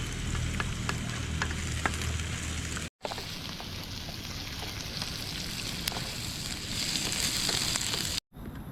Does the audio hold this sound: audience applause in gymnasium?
no